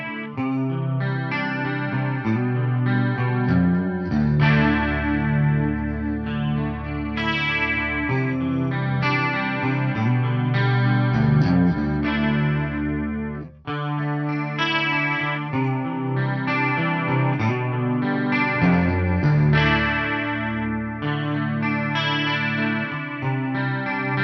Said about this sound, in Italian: Sentiamo anche il chorus.